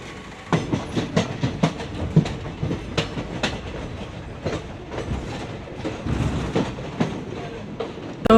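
The Mithila Express, a Howrah to Raxaul train, running along the track in fog, with steady rhythmic clickety-clack of wheels over rail joints, loud and close from inside the carriage.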